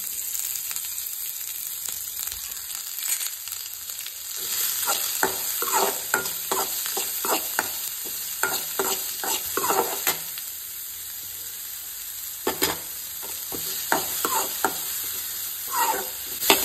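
Chopped onion and green chili frying in hot oil in a pan, a steady close sizzle broken by bursts of stirring and scraping, with no voices.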